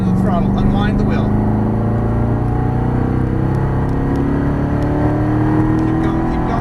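A Corvette Stingray is driven hard on a race track, its engine accelerating with steadily rising pitch, loud and close from inside the car, with a person talking over it.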